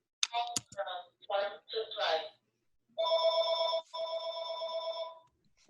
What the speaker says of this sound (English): That was my phone ring.